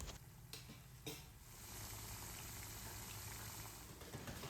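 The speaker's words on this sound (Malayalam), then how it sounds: "നല്ല ചൂടായ എണ്ണയിലേക്ക് ഇട്ട് വറുത്ത് കോരിയെടുക്കാം" Snack balls deep-fry in hot oil with a steady, quiet sizzle and a couple of brief clatters near the start, close up with no talking.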